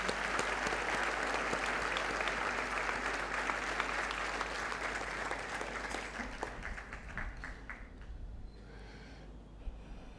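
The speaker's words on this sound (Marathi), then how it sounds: "त्यांच्याकरता टाळ्या वाजल्या पाहिजे." An audience applauds a doctor at a book launch, a dense, steady burst of clapping that thins into scattered claps near the end.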